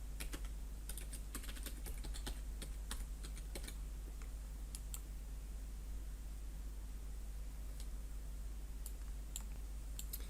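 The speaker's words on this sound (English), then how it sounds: "I'm going to go ahead and type in my password and click OK" Keystrokes of a password being typed on a computer keyboard, quick irregular clicks in bursts over a steady low hum, with brief pauses between runs of keys.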